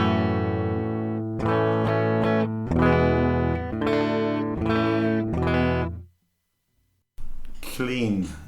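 A clean electric guitar with a Boss BD-2 Blues Driver pedal bypassed plays a sequence of strummed chords and sustained notes, loud and close. After a short silence, a voice begins speaking at the end.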